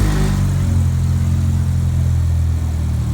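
A Honda Civic with an R18 engine and turbo runs at a steady idle after repair work, a low, even rumble heard close up with no talk.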